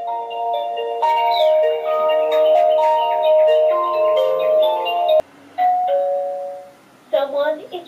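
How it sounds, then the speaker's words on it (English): A 360 D819 video doorbell's base station plays a melodic electronic chime, a run of clear bell-like tones for about five seconds, then a short pause and a briefer second chime, loud and up close. "When somebody presses the call button on doorbell, the base station makes a sound."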